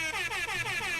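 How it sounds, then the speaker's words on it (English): A loud, steady air horn blast used as a sound effect during a comedy show, sustaining for about a second with no voices over it. "That was the air horn I wanted to use more,"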